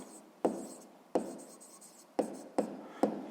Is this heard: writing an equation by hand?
yes